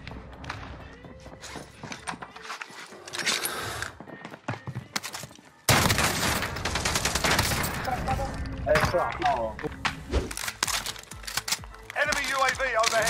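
Origin shotgun blasts in Call of Duty Warzone, loud sharp reports in quick bursts over a dense mix of game effects and music, with voices talking throughout.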